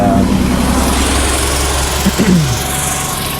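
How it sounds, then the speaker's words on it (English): Buses driving past on a nearby road give a steady low engine rumble and vibration, with a brief rising whoosh as one passes close toward the end of the stretch. "sorry, buses driving by."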